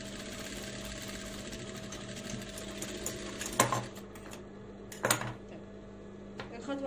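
Domestic sewing machine stitching cheap bedsheet cotton fabric for children's summer shorts, a steady close mechanical whir with a couple of louder clattering bursts midway, no talk.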